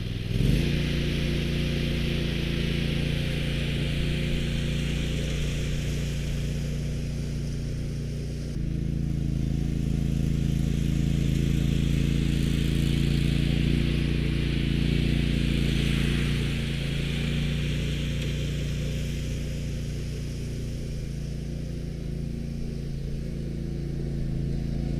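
A zero-turn lawn mower drives around a yard on low-pressure tires, its engine a loud steady drone close by for the whole stretch, shifting slightly in pitch as it turns, with no talk.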